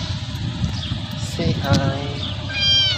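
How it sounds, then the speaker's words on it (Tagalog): Several cats meow outdoors in late afternoon in Saudi Arabia, a few short cries close by over background street noise, with a person talking at points. "Yung mga pusa."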